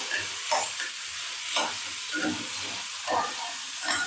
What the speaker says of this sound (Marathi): टोमॅटो घातल्यावर सुद्धा आपल्याला दोन ते तीन मिनिट छान परतून घ्यायचं